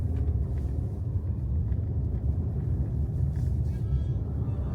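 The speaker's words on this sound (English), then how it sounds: "Big truck just passed us." A big truck passes on a road in North Iceland, heard from inside a car with the window down as a steady, loud low rumble that swells and fades without a clear peak.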